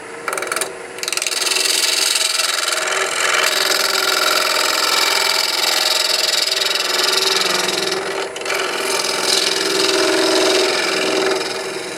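The back of a wooden faceplate spins slowly on a lathe while a turning tool scrapes it clean, giving a steady, loud, rough rasping that runs on with only brief pauses.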